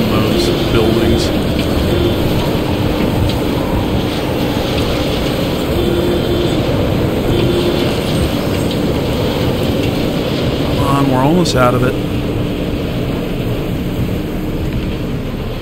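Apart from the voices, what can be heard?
rain and thunder of a storm in a video game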